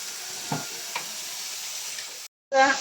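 Coconut oil heats in a pan in a home kitchen, giving a steady, fairly loud sizzle with a couple of faint knocks, a brief cut to silence, then a brighter crackling burst.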